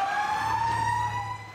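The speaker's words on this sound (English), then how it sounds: "The sound of sirens" An emergency siren from a fire engine wails steadily in a fire safety setting, a sustained tone with strong harmonics holding level and loud throughout, with a low engine rumble beneath and no voices.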